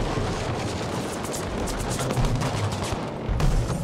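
Rapid, dense gunfire from Battlefield V on the Narvik map in Breakthrough mode, loud and close, with overlapping bursts and shots crackling steadily over a low rumble and no voices.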